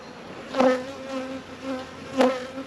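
Honey bees on a brood frame in an open hive hum in a steady close drone, with two louder buzzes as individual bees pass near.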